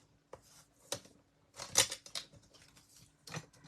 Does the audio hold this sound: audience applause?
no